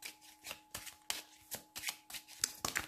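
A deck of cards is shuffled for a card reading in a quiet room, giving about ten quick riffling bursts in an uneven rhythm, soft and close, with no talk.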